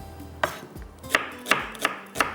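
A knife chops onions or tomatoes on a board in a home kitchen while qeema is being prepared: five or six sharp, distinct cuts spaced unevenly, close and fairly quiet, with no talk.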